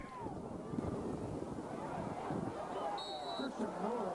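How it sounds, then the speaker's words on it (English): A fierce cross-field wind from the northeast blows across the field at a high school football game, a steady rumbling buffet of wind noise on the microphone under a man's play-by-play commentary. "Got a fierce cross-field wind here."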